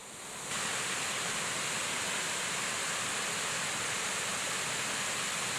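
A Yorkshire Dales river rushes beneath a bridge on a walk near Cotterdale, giving a constant broadband roar of flowing water that holds steady and fairly close, with no voices over it.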